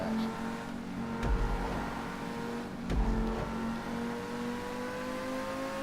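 A race car engine in GTA Online, steady and loud with a rising whine through second and third gear, two brief low thumps at about 1.2 and 2.9 seconds, no speech.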